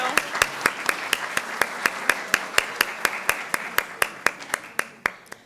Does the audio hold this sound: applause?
yes